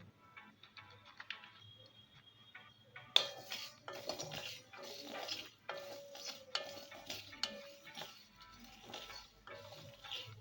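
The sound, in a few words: black pepper and cloves stirred frying in pan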